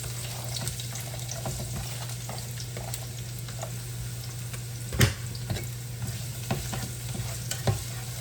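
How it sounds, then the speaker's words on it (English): Chopped onions sauté in hot grapeseed oil for a sauce, a continuous close sizzle with a low steady hum beneath and occasional scraping stir clicks and clatters. "Now I'm gonna get my onions added to this grapeseed oil for my sauce."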